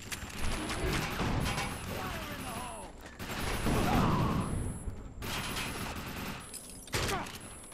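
Shotgun blasts and gunfire in the video game Defiance, dense bursts of shots and mechanical clatter with a steady in-game hum, loud and close through most of the stretch.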